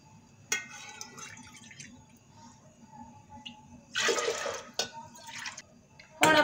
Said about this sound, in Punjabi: ਇਹਦੇ ਵਿੱਚ ਆਪਾਂ ਹੁਣ 3 ਕੌਲੀਆਂ ਪਾਣੀ ਦੀ ਐਡ ਕਰਾਂਗੇ।